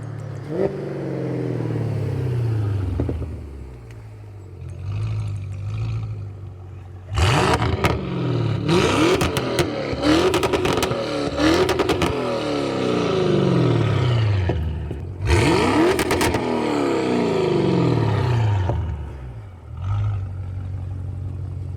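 An Audi RS7 boosted V8 with a new downpipe revs hard in repeated loud blips, roaring up and falling back with crackles between pulls, then settling to a rumbling idle, close and very loud.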